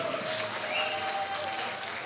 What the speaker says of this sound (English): Round of applause for this couple, guys here.